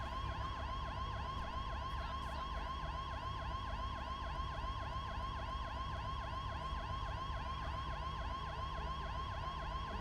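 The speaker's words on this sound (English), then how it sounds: "Gosh, those sirens are loud." Loud wailing emergency vehicle sirens in a video game, several overlapping sweeping tones held steadily and close throughout with a low engine rumble beneath.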